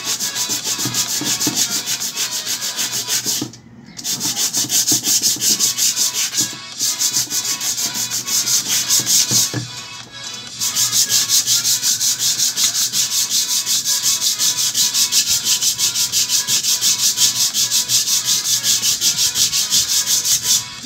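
Sandpaper scrubs vigorously against a surface in fast, steady strokes, loud and close, pausing briefly a few times before resuming alone.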